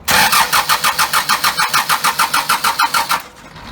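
An engine in a truck cab cranked over by the starter on new custom motor mounts, without firing, giving a fast, even chugging rhythm of about seventeen loud close pulses before the cranking stops.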